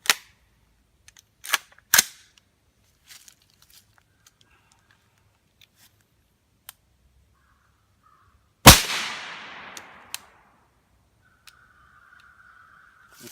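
A 300 Blackout rifle fires HPR 110gr FMJ rounds during a function test outdoors, several sharp isolated shots, one followed by a decaying echo, with long quiet gaps between them.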